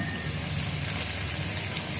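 Garlic, green chillies and onions fry in a pan over low heat for a Lahori chana dish, giving a steady soft sizzle and crackle that runs evenly throughout with no talking.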